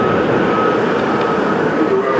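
An AirTrain shuttle running between airport terminals in New York gives a steady rolling rumble with faint high whines, heard from inside the car and fairly loud and continuous.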